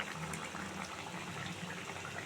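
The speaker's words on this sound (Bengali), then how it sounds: "মাছের ঝোলটা ফুটছে" A pot of fish curry with bhola fish bubbling on the stove, a continuous steady simmering burble at moderate level with no talk.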